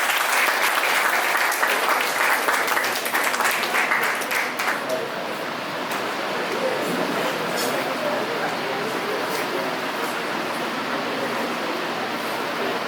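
Audience at a school Independence Day ceremony applauds a student on stage, a loud sustained roar of clapping that eases slightly but carries on steadily throughout, with some voices mixed in.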